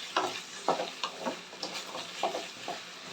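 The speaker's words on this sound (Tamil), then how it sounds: "நல்லா வதக்கி விடுங்க." Sliced okra sautés in hot oil in a pan while being stirred, a steady soft sizzle with repeated scraping stirs every half second or so, close and alone.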